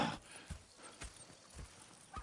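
Steady clip-clop of horse hooves at a walking pace, with a brief whinny mixed in, fairly close, from a PS4 video game.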